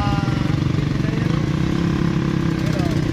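A motorcycle engine running steadily with a dense, even pulsing chug close to the microphone, with a voice speaking over it.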